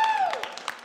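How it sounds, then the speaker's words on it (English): An applause sound effect played by an audio engineer during a Yoshi's Island game stream: a few sharp claps over a falling electronic tone, brief and close. "I see audio's even clapping for me"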